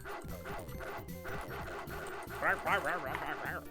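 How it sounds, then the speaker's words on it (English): Dog barking in the video game Bart's House of Weirdness, a steady run of repeated electronic barks throughout, growing louder and more insistent toward the end, with people talking over it. "So much barking."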